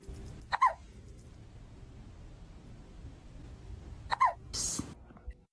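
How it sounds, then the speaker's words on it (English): A cat hiccups twice after eating, each a short, sharp squeak-like hic, about three and a half seconds apart, over a quiet background with a brief hiss after the second. "She gets hiccups right after she eats."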